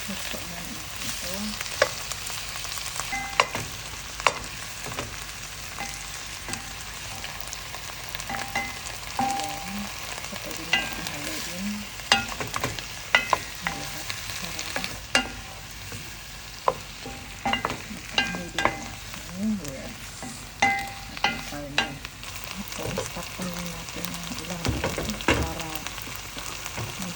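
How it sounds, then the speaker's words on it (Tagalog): Pork ribs for nilagang baboy are stirred in a cooking pot, loud sizzling and frying crackle running throughout with repeated scraping stir strokes and clinks of the utensil against the pot. "lagay na natin ang ating ribs. Mix po natin ito."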